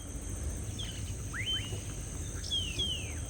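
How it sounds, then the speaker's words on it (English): Birds sing among the shade trees of a coffee farm with sparse, thin whistled chirps and short rising and falling notes, fairly faint over a low, steady outdoor background. "The sound of birds is your constant accompaniment to the beautiful,"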